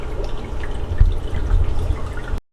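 Remineralized water poured back into a Neocaridina shrimp aquarium during a water change, a close steady splashing trickle that stops abruptly, with no talking.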